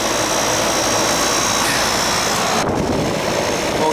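A car air conditioning compressor on a hacked AC system with no heat coming out runs as a loud, steady, broadband roar and whir that holds unbroken throughout.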